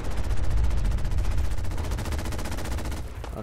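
Rapid sustained automatic gunfire in Fallout 4, a dense, loud stream of shots firing continuously for about three seconds before cutting off.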